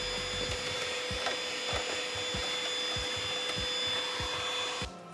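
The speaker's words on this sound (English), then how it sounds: "So get your vacuum cleaner, just get rid of all of that dust there." A vacuum cleaner drones steadily up close, sucking dust from the fan of a PS5 or Xbox console, with regular scraping thumps as the nozzle moves and a sudden cutoff at the end.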